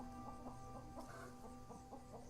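Chickens clucking in the video game Stoneshard, a quick run of short repeated clucks in an even rhythm over a steady tonal hum, close and clear with no talking.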